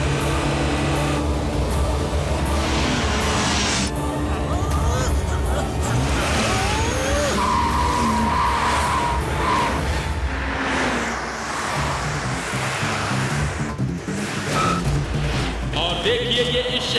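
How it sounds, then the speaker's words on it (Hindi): Cartoon race cars from the Motu Patlu 36-hour race speed along and overtake one another, engines roaring loudly and continuously with tire squeals, crash-like hits and a busy music-laden soundtrack throughout. "मोटू पतलू ने एक गाड़ी को ओवरटेक किया, दूसरी गाड़ी को ओवरटेक किया और तीसरी गाड़ी को भी ओवरटेक कर लिया।"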